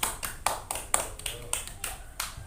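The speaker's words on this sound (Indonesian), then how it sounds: "tepuk tangan ya untuk kelompok Mbak Nadia." Scattered hand claps from a small Indonesian-language classroom, about nine sharp, uneven claps spread over a couple of seconds, fairly quiet and close, with faint background murmur.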